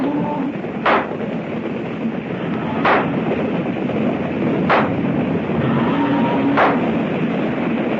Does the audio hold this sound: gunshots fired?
yes